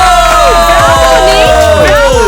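A large crowd cheers loudly with shouts and whoops, a dense, continuous roar close up and without pause, with little distinct clapping.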